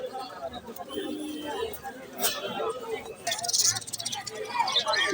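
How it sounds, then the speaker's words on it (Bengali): Red Sirazi pigeons coo softly amid a busy pigeon market hubbub, with chattering voices and bird calls layered throughout. "লাল টকটকা একটা জোড়া সিরাজি নটটা খুব সুন্দর করে ডাকতেছে"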